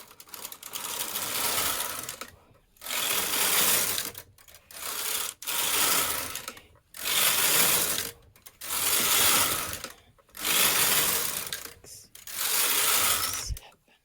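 A domestic knitting machine carriage runs back and forth across the needle bed knitting rows of waste yarn, eight loud, even ratcheting passes each about a second and a half long, separated by brief silent pauses.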